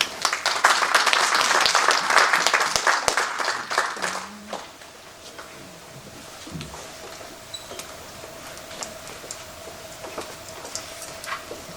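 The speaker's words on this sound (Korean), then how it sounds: "이 시간 박수로 함께 모시도록 하겠습니다" Audience applause welcoming a pastor at a church mission conference, a dense burst of clapping that fades out after about four seconds, leaving a quiet room with scattered small sounds.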